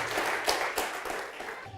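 A church congregation applauds at a worship service, a dense wash of many hands clapping in a reverberant hall, steady and fairly loud through the short stretch.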